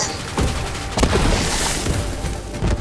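Pistol rounds in Borderlands 3 explode at the end of their flight, giving several dull booming blasts and crackling bursts over a busy game soundscape.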